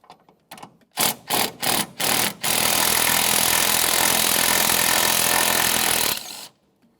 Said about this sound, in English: We'll fully remove the upper mounting nut